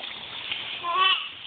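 A garden sprinkler sprays water over children playing in a backyard, a steady close hiss of spray with a brief louder splash swelling midway, a voice faintly underneath.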